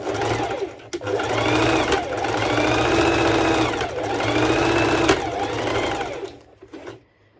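A sewing machine runs a straight stitch on the straps of a mesh sporty top in two long, steady whirring runs with a brief pause between, close and fairly loud, ending with a soft click.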